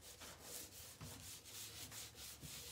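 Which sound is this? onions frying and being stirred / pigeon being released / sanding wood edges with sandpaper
sanding wood edges with sandpaper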